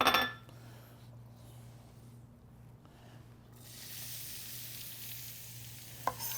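Onions and peppers hitting hot olive oil in a pan, a clatter at the start, then a steady sizzle that grows louder and brighter partway through, with a brief clink near the end and no talking.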